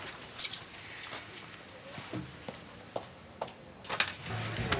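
Keys jangle and clink at close range, scattered metallic rattles and brief chimes as they are handed over, with quiet background movement.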